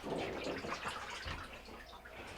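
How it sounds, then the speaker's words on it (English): Water drains and trickles steadily out of a lifted-out part of a Maytag MTW6700TQ1 washer, a faint continuous splashing and dribbling with no talk over it. "just let it drain for a second, make sure all the water's out of it."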